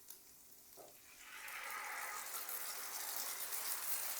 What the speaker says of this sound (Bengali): এবার আমি টমেটোর পেস্টটা দিয়ে দিচ্ছি